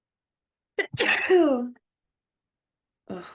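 A single loud, close sneeze bursts out sharply and trails off in a voiced tail, followed after a pause by a brief spoken word.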